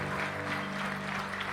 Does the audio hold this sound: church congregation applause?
yes